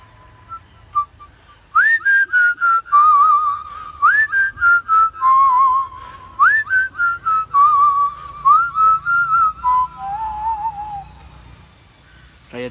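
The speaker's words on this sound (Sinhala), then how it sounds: "try එකක් දෙමුද? විසිල් එකෙන් ගහන එක" A whistle plays a lilting, ice-cream-vendor-style tune in a long run of rapid, chirping notes, loud and close against a quiet background.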